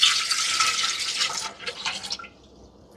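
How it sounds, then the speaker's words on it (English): Four cups of water pour into a cooking pot, a steady close splashing stream that runs for about a second and a half, then trails off into a few scattered drips before going quiet. "we're going to put 4 cups of water"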